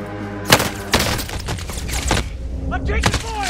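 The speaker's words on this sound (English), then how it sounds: "I'm taking fire." Gunfire from the video game Call of Duty: Modern Warfare, sharp loud bursts and scattered shots over a steady rumble of game noise, with voices talking underneath.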